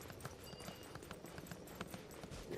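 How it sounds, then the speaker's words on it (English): Faint hooves clop in a steady, rapid galloping rhythm as a character runs in the video game Genshin Impact, continuing evenly throughout against a soft background. "You can hear like a horse galloping sound when she runs like this."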